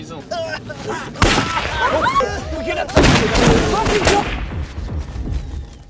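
Film gunfire as a group of people shoot at others in a forest, with sharp bursts of shots near 1.2 s and 3 s and a clustered volley around 4 s, set among busy dramatic sound effects.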